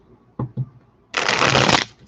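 Tarot cards being shuffled, a couple of quick soft taps followed by one close, dense riffle lasting about half a second.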